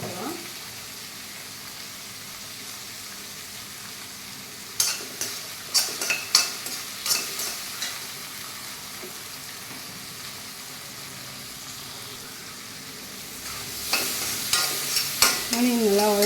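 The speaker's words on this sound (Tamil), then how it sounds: "ஆனியன் நல்லா வதங்கிட்டு தக்காளி நல்லா வதங்கிடுது." Onions and tomatoes sizzle softly in a pan, with a quiet frying hiss throughout. From about five seconds, and again near the end, a spoon scrapes and stirs in quick clattering strokes.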